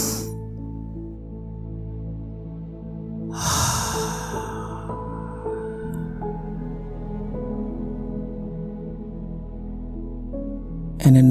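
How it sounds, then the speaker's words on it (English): A single deep breath taken during a guided breathing meditation, a broad rushing inhale rising partway through over a sustained low droning tone. "And another inhale."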